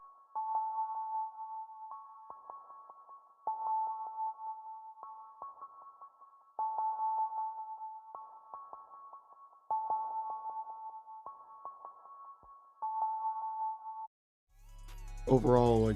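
Synth chord percussion from a Hive patch plays short plucked chord stabs in a steady repeating pattern, loud and clean and alone, ending with a brief burst of a different bright sound.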